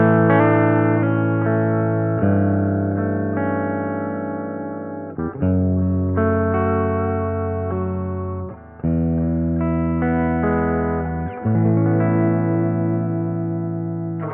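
Electric guitar chords played through an Audota AME-200 Pro amp modeler with a light, slightly crunchy overdrive on the edge of breaking up, strummed and sustained in several phrases, close and fairly loud.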